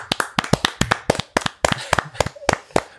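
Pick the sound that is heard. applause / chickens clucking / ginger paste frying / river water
applause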